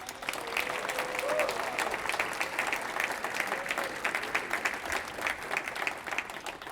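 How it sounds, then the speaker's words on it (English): A crowd applauding at a religious leadership network's anniversary celebration, dense, continuous clapping from many people filling the room at a steady level throughout. "Let's give them another round of applause"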